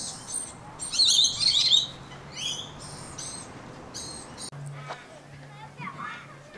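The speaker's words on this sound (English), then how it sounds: "Birds are going off." Birds chirping and calling in the Perth botanic gardens on a fine day, bright twittering bursts in the first half and scattered calls later over outdoor background noise, with a person speaking briefly in between.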